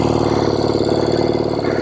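A 1970 Royal Enfield Interceptor 750 Mk II motorcycle engine runs close by with a loud, steady, throbbing beat, its rapid rhythmic pulses holding even throughout the short stretch with no voices.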